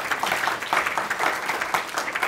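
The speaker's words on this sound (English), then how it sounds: "So first, a round of applause," Steady applause from an audience at a live civic-tech talk, a dense, continuous wash of clapping that holds at an even level throughout.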